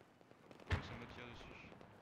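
Gunfire aimed at the player in Battlefield 4, with a sharp close shot burst near the start followed by a steady rumble of distant battle noise.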